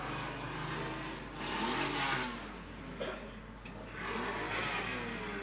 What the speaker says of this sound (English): car not sounding all that flash at the moment as he comes up onto the 3rd line